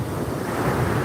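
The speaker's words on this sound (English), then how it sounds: "waves are still just as choppy" Choppy ocean waves wash steadily against a Florida shore while wind buffets the microphone, forming a continuous, fairly loud rumbling surf with no voices.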